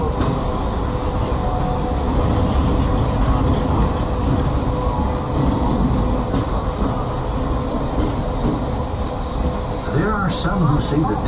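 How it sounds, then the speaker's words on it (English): The Walt Disney World Railway steam train rolls along with a continuous rumble and clatter of wheels on track, steady and fairly loud, with a brief squeal or rattle near the end. "Some who say that this steam train is a little old-fashioned, but for me, it's the only way to travel"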